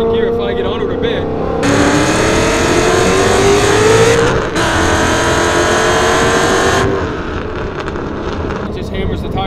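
An 1100 hp 5.0L Coyote Mustang accelerates hard in second gear, its engine note climbing loudly with a roaring, raspy edge, briefly dipping mid-pull before surging on, then easing off near the end.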